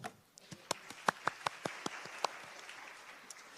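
A small audience at a Korean AI competition presentation gives a brief round of applause, a sparse scattering of distinct, fairly close handclaps that thins out over a few seconds.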